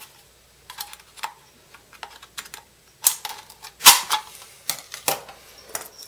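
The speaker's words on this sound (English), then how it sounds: "And I just cut up the seam here on any can" Long scissors snip through a thin Coors Light aluminum can, giving a series of sharp, irregular crisp clicks and crunches close up with quiet gaps between cuts.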